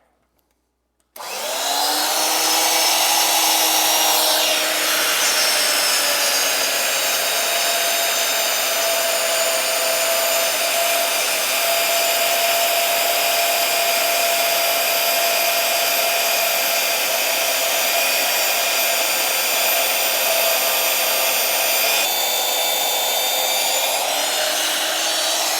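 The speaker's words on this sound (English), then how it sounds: "I got my 1732 drill in there. I'll give it a dab of anchor lube and we'll get drilling." A Milwaukee magnetic drill with a 1732 cutter bores through heavy steel, starting abruptly and holding a loud, steady motor whine with shifting cutting tones for over twenty seconds before it eases off.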